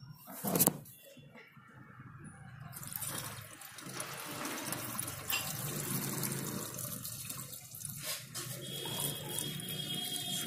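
Water mixed with screen wash concentrate being poured into the wiper fluid tank of a Maruti Suzuki Baleno, a steady close splashing and gurgling fill that follows a brief knock and runs continuously to the end.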